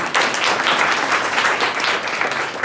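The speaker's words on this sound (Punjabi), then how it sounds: "ਸ਼ਾਬਾਸ਼ ਤਾੜੀਆਂ ਮਾਰੋ ਜੀ" A classroom of students at a government high school claps briefly, a dense burst of applause lasting under three seconds, fairly close and even in loudness.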